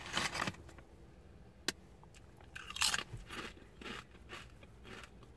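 Close crunching and chewing of Kühne chickpea nachos with paprika, crisp bites and crackling mastication in uneven bursts, fairly quiet and with no talking.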